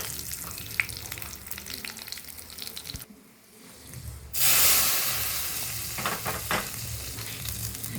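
Mustard seeds, green chili and curry leaves frying in hot oil, giving a continuous close sizzle with scattered crackles. It dips briefly, then swells into a louder hissing burst that settles back to steady spluttering.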